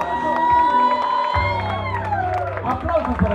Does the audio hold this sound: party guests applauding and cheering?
yes